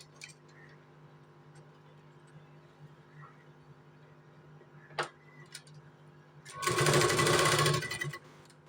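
A sewing machine runs one short, fast stitching burst along a folded blouse sleeve edge. It follows several seconds of quiet room tone with faint ticks and a single click.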